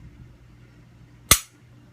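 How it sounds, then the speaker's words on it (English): A Glock 41 Gen 4 pistol dry fires with one sharp, close click, standing alone over a quiet room. "now you can safely dry fire it"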